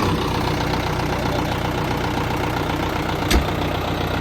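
A used YTO X904 diesel tractor engine idles steadily and loudly with a low rumbling drone, one brief clunk near the end.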